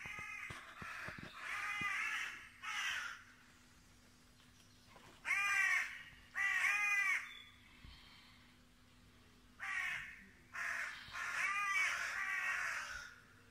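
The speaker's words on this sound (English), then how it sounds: "What you see here is squirrels and the crows fighting over a piece" Crows caw repeatedly in a garden while squabbling with squirrels, loud harsh calls coming in bursts of two or three with short quiet gaps between them, nearby and clear over a faint steady hum.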